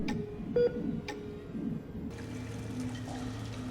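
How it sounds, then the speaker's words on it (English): A telephone is dialed to call for backup inside an SCP Foundation facility, giving a few faint clicks and one short beep tone over a quiet room hum. "I managed to find a phone, and I called for backup."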